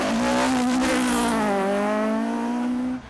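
A 2.4 litre Toyota Starlet rally car slides sideways on a Donegal rally stage, its engine holding a loud, steady, strained note that dips slightly mid-slide before cutting off.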